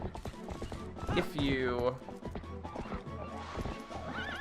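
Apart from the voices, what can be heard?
horse hooves and neighing in the video game Zelda: Twilight Princess HD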